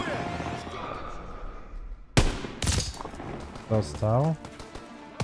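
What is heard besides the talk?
sniper rifle shots in Call of Duty: WW2 video game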